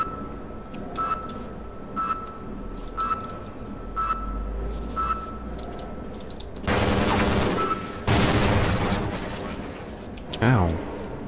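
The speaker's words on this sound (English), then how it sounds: "Oh, it is a machine gun." Machine gun fire in the shooter game Half-Life, dense bursts of rapid gunfire from about the midpoint after quieter clicks and thuds, with a sharp final shot.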